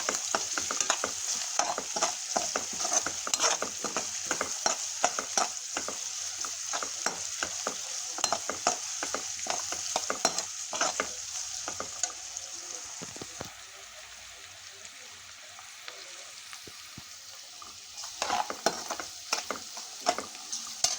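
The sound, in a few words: onions frying in a pan until golden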